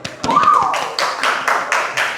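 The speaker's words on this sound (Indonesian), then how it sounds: "Tepuk tangan." Applause after a classroom group presentation, a few people clapping in irregular bursts, with a tone-like sound near the start.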